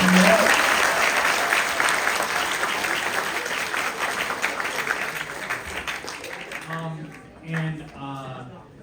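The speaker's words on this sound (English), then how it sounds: "let's have one more round of applause for all of our video competition" Steady applause from a large crowd at the 2023 BioEHSC awards ceremony fills most of the stretch, fading toward the end as a voice begins speaking over it.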